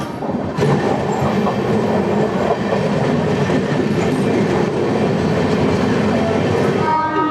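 An Amrit Bharat Express train runs from Sealdah toward Varanasi, its steady loud rumble and rail clatter heard from onboard, continuous throughout with no voices.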